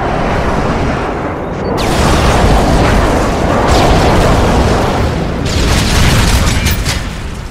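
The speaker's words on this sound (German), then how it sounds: "Feindlicher Luftschlag unterwegs. Der Luftschlag ist unterwegs." An airstrike in Modern Warfare 3 booms as loud, rolling explosions. A continuous roar builds after the first couple of seconds and then swells again with fresh blasts near the end.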